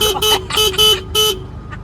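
A car horn honks in a rapid string of short, loud blasts, then stops.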